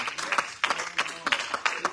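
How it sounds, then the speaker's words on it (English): A church congregation and choir clap in a steady rhythmic beat at an Easter service, each clap sharp and evenly spaced, with voices mixed in underneath. "Get along with the hand clap in that choir"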